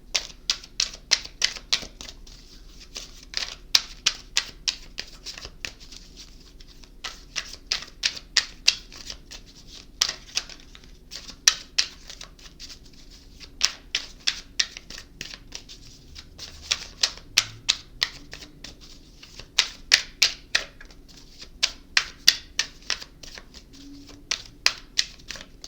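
Tarot cards are shuffled in repeated bursts of crisp, rapid clicking, each flurry lasting about a second and separated by short pauses, close and fairly loud throughout.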